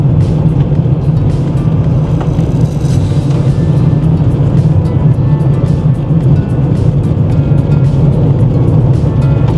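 A car rolls slowly along a freshly graded road of loose gravel near a farm in Finland, with a loud, steady engine drone and a continuous crunching rumble of stones under the tyres.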